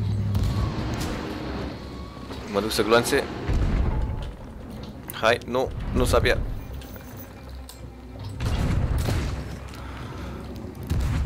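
Ship cannons fire in the pirate game Sea of Thieves, heavy booms thudding at intervals beneath lively voices talking over them, with splashing water and game ambience between shots.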